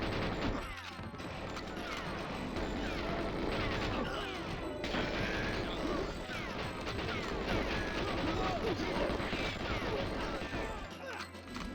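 Repeated gunfire and crashing effects from GoldenEye 007 in the Bunker level run dense and loud throughout, with mechanical clatter between the shots and a brief drop in the middle.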